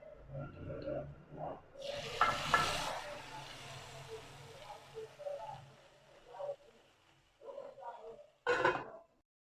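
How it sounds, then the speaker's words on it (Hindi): A loud sizzling hiss bursts out as hot oil tempering hits kadhi curry, then fades, with a second short sizzle later amid soft stirring and clinks. "तड़का हमारा तैयार हो गया है, हम अब कढ़ी में डालेंगे।"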